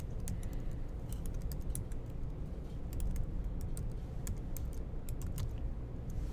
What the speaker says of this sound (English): and now if I type in my name